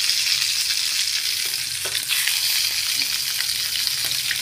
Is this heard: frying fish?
yes